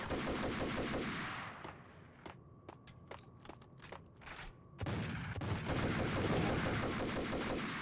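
Full-auto shotgun fire in the video game Max Payne, thick roaring bursts at the start and end framing a stretch of separate sharp shots in a quick rhythm, all loud and close.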